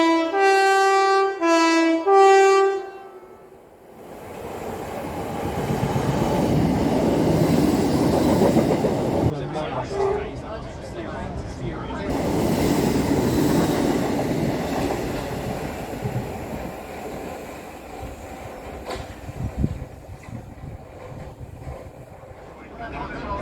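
A Southern Class 455 electric train plays a rising multi-tone horn or chime, then runs on the rails with a steady rumble and rattle that swells and fades over a long stretch, with voices talking over it.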